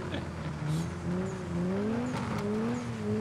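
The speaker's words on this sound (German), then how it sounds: "Martin fährt jetzt gerade nochmal mit seinem Nissan die Runde" Nissan drifting on an ice course, its engine held at a steady, fluctuating whine that carries on throughout, with faint tire noise and a voice talking over it.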